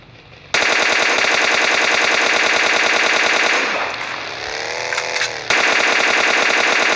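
Sustained automatic gunfire in the mobile shooter PUBG Mobile Lite during a one-gun challenge, loud and close, with rapid continuous bursts that briefly soften midway before resuming at full intensity.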